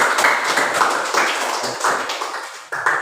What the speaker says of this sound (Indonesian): Kasih tepuk tangan dulu untuk Devi.